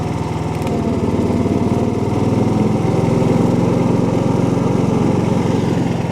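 A Predator 11,500 portable generator drones continuously up close under load from a space heater, a steady loud chugging hum with a faint rise in intensity midway, no voices.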